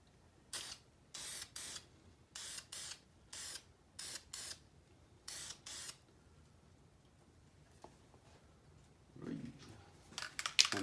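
Krylon Rust Tough gloss black paint sprayed from a can onto a corner of a 2019 Polaris Ranger XP1000, a series of short, crisp hissing bursts in a steady rhythm, followed by quieter rustling and handling sounds.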